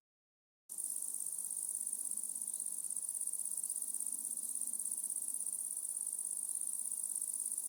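Cicadas sing in a quiet southern French village, a continuous high-pitched buzzing drone that starts suddenly and holds steady at a moderate distance, with no voices.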